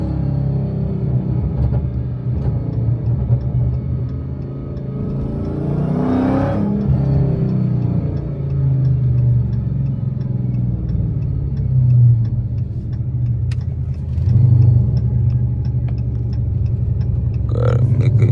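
Dodge Hellcat V8 fitted with headers rumbling on a night street drive, a deep, loud burbling drone that swells with revs and crackles during downshifts, near and continuous.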